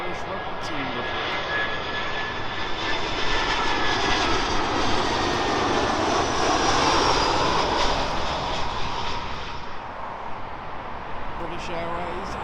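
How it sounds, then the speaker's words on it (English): An Aer Lingus Airbus A320 jet in Irish Rugby Team livery, arriving from Cork, roars steadily and loudly nearby with a broad engine rumble and whine that swells in the middle and eases toward the end. "It's the Aer Lingus from Cork. It's the A320 with the Irish Rugby Team livery."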